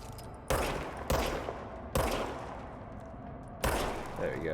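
Gunfire from the video game Control: four sharp, loud shots at irregular intervals, each trailing off in a short echoing decay.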